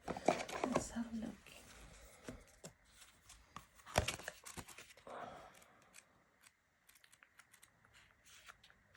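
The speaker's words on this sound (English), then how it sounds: "Let's see how I shuffle." Deck of oracle cards being shuffled by hand, quick papery riffles and slaps clustered in bursts near the start and again midway, then thinning to sparse soft taps, close and fairly quiet.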